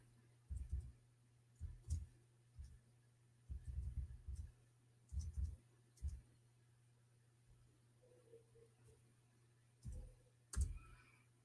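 Keys on a computer keyboard are tapped in short, irregular bursts of soft clicks over a low steady hum, with pauses between bursts and no talking.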